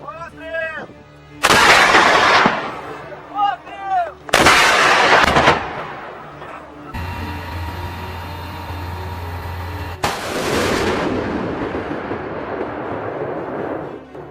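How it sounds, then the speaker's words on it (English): Missile strikes and artillery fire from US-supplied HIMARS launchers hitting Russian troops and military equipment in Ukraine, heard as several loud, heavy blasts and roaring launches with rumbling tails, separated by short quieter gaps. "Unofficial claims say Kyiv forces used US-supplied HIMARS missiles"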